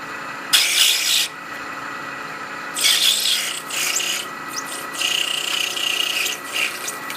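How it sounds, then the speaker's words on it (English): Rough, rasping bursts of metal cutting in uneven passes, a center-cutting end mill grinding away up close with brief pauses between strokes. "The center cutting end mill, that actually is working well."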